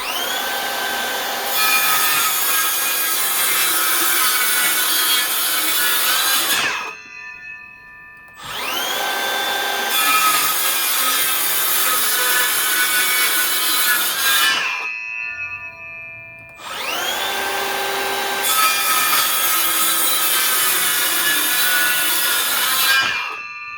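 A Makita XSH04 subcompact circular saw cuts through 1/2 inch OSB in three long, loud passes, each a steady high whine of blade through board, with brief pauses as the saw winds down between cuts.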